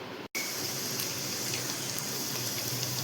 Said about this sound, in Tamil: நல்லா பொரியட்டும்.